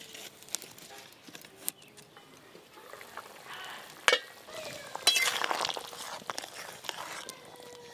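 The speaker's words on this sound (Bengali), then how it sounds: "জল, চাপা দিয়ে আলু পটলটা একটু ভালো করে সেদ্ধ করে নেব।" Potatoes and pointed gourd simmer in water in a covered pot, giving a soft, steady bubbling hiss with a sharp utensil clatter midway and a slightly louder stretch afterward.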